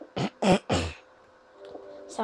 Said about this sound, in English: sorry about me coughing a lot.